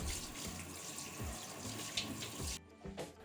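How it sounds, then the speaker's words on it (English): Warm tap water pours steadily while feet are rinsed, a continuous splashing rush with small shifts in the flow before it cuts off, leaving a few quieter trickles. "rinse your feet with warm water"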